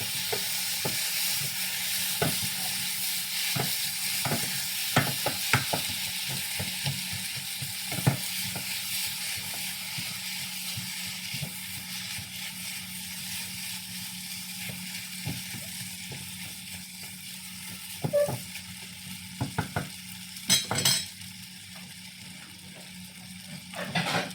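Paneer dish stirred in a hot pan, with steady sizzling and frying hiss throughout and repeated scraping, clacking strokes of a utensil against the pan, close and fairly loud, no voices.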